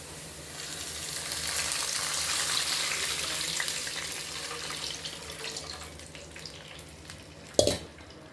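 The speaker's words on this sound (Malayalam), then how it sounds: "അപ്പോൾ ഞാൻ ഇതിൽ രണ്ട് പാത്രം വെള്ളം ഒഴിച്ച്" Water poured into a pot of biryani chicken, a rushing, splashing pour that swells and then fades, ending in a sharp clank close by.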